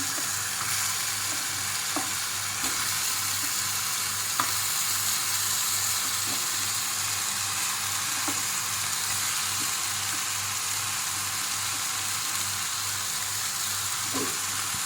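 Goat trotters frying in a pan, a steady close sizzle running unbroken with occasional faint clinks and stirring sounds over it.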